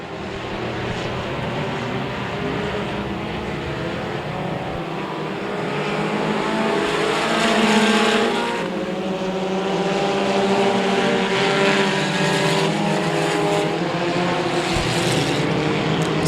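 Several race cars battle at Kennedale Speedway Park, with a dense, continuous engine roar swelling and fading as the pack passes, loud and close throughout.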